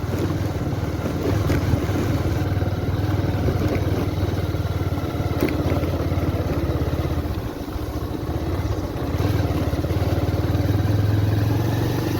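A motorcycle rides through a forest, its engine a steady low drone with heavy wind rush across the microphone, continuous and close, no talk.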